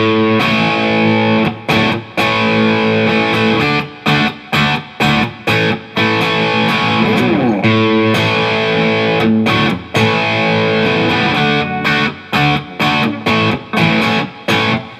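Distorted electric guitar plays the full-speed chorus riff of a song, chords ringing loud with rhythmic choppy stops and restarts throughout.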